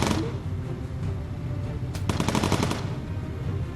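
Bomber gunners fire machine guns at enemy fighters in the World War II game Bomber Crew. A rapid burst of shots rattles out over steady engine drone, with a sharper crack at the start.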